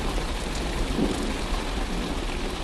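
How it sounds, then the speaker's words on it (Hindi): Rain mixed with hail pours down on farm fields as a cartoon sound effect: a dense, steady hiss of drops with a low rumble underneath, continuous throughout, with no voices. "कुछ ही देर में बारिश के साथ साथ ओले भी गिरने लगते हैं।"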